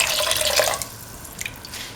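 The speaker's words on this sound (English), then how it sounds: "Pour in 250 ml of water." Water, 250 ml, is poured into a pan of lentil carrot rice, making a short splashing trickle that is strongest at the start and then thins to faint drips.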